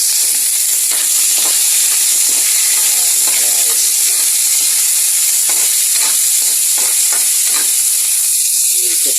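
Water spinach, onion and tomato sizzle and fry loudly in a pan, with steady hiss and the scrape of stirring up close throughout, no voices.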